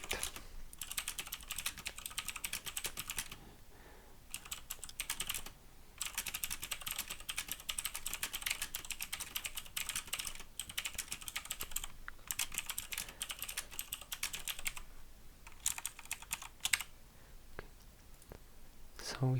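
Fast, continuous typing on a computer keyboard while writing a code comment, dense close clicking in long runs broken by brief pauses, with a faint whisper-like murmur now and then.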